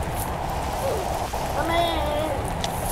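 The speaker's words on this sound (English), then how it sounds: "It's raining." Steady rain falls in the Roblox game Natural Disaster Survival, a constant close pattering hiss with faint game tones and sweeping sounds layered on top.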